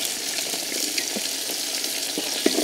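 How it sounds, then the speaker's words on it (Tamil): Sliced onions frying in an oiled pan give a steady, dense sizzle throughout, with a few louder crackles and pops near the end, heard close and alone with no talking. "நம்ம ஃபஸ்ட்டு வெங்காயத்தை போட்டுக்குவோம்"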